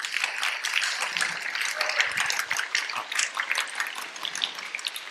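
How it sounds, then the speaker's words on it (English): A workshop audience at a public speaking session claps for a participant in a steady, moderately loud burst of applause that carries through to the end. "huge round of applause to Krishang."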